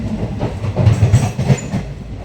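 An Indian passenger train, SMVT to Bhagalpur number 06565, rumbles past up close with a heavy rhythmic clickety-clack of wheels over rail joints, loud and continuous with no voices.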